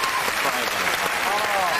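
A studio audience at a BBC game show claps for a wine expert, continuous, fairly loud applause with voices mixed in beneath it.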